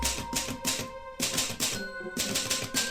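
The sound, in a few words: typewriter typing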